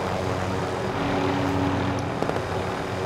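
A Call of Duty: Modern Warfare helicopter drones loudly and continuously, its low rotor throb joined by a few faint sharp clicks near the end, no speech.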